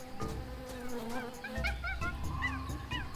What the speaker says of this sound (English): I hear a monkey.